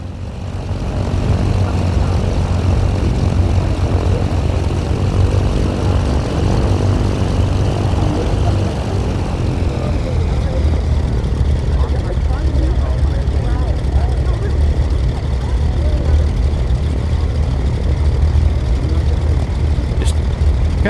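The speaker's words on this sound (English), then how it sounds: "This is a turbocharged piston twin," Twin turbocharged piston engines of a Cessna 414AW Chancellor drone loudly and steadily at takeoff power in flight-sim game audio, a dense continuous propeller roar with a slight tonal shift partway through and a faint voice underneath.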